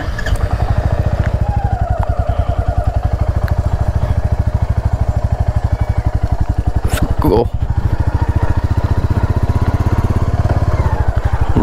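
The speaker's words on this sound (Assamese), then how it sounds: "চেইনৰ পৰা বেয়া মাত দিছে, গোটেই মামৰ লাগি গৈছে" A motorcycle ridden on a rainy, muddy road, its chain rusty and dirty, gives a loud close rapid engine putter with a rattling, clattering chain noise running steadily throughout, while a person talks over it.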